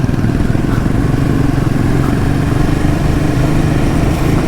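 Several Royal Enfield motorcycles ridden together in a group at sunset, their engines droning in a steady, loud, continuous low rumble that holds without a break.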